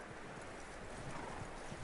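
Hooves of a skittish horse in the Red Dead Redemption 2 game clop steadily and close by, with a faint whinny mixed into the dense, continuous texture and no talk.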